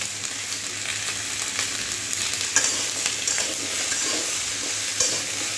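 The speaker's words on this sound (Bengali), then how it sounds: "ভালো করে একটু নাড়াচাড়া করে নেব।" Large chunks of ash gourd sprinkled with salt are stirred in a hot pan, giving a steady close sizzle and frying hiss with occasional soft scrapes and knocks of the spatula throughout.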